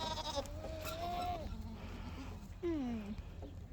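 Goats bleating on a dairy farm, two drawn-out wavering bleats a second apart, fairly close, over low farmyard background noise.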